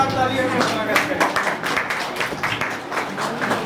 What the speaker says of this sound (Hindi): जोरदार तालियों के स्वागत करें।